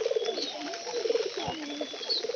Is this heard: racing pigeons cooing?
yes